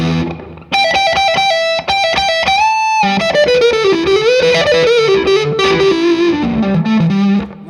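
Electric guitar driven through a Fulltone OCD distortion pedal plays loud, saturated blues notes and bends, a few short stabs and then a descending sustained line, with no talking.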